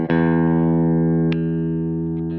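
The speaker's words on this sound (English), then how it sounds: "This is the rear pickup in humbucker." A clean electric guitar with its rear pickup in humbucker mode, played through a Helix into a Laney LFR 212, rings out as a single bright strummed chord that sustains loudly and evenly, with a faint second pick partway through.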